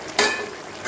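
Fried fish being stirred into a simmering curry of prawns and pumpkin stems in a pan, a brief close scraping and sizzling bubble with no talk.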